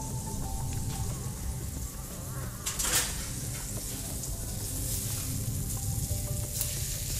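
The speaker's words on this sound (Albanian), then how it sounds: "Bëj një skuqe të lehtë, sigurisht në zjarr të avash gjithmonë." Meat fries lightly in a pan over low heat, giving a steady, close sizzle with faint crackles and a brief clink of utensils partway through.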